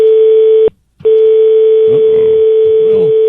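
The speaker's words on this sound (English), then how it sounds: "there comes their dial tone there" A steady telephone dial tone hums loudly, cuts out briefly, then resumes and continues while faint voices murmur beneath it.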